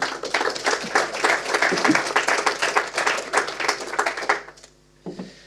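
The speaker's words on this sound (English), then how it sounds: "if we can have a very warm round of applause for Martyn Eustace from Two Sides." Conference audience gives a warm round of applause for a speaker, dense clapping from many hands that fades out near the end, followed by a short bit of speech.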